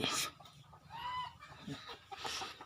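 A backyard flock of hens clucks in short overlapping calls, one drawn-out cackle standing out mid-way, close and moderately loud over faint farmyard ambience.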